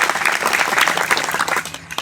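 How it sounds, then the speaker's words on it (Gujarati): A crowd at a community meeting breaks into dense, loud applause for a couple of seconds, many hands clapping together before it begins to thin out at the end. "બળવંતભાઈ, એમની સાથે સમૂહભાઈ, એ વગેરે ટીમને પણ આપણે તાળીઓથી વધાવી લઈશું."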